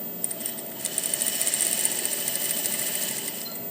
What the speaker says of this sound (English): we want to do that little quarter stay stitch on the side seam of the pocket